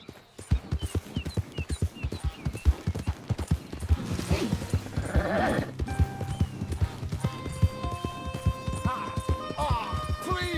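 A horse gallops in the video game Red Dead Redemption 2, with steady, rhythmic hoofbeats throughout, a whinny partway through and other in-game sounds layered in toward the end.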